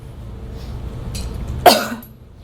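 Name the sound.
deliberate cough after a supraglottic swallow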